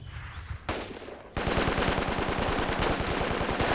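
Rapid automatic gunfire in a multiplayer shooter video game: a short burst, then a sustained, evenly spaced stream of loud shots with no talking.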